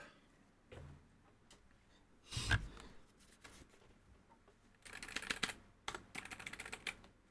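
Typing on a NuPhy Air60 mechanical keyboard: scattered single keystrokes and short bursts of clicky key presses, fairly close, with quiet gaps between them and no voices.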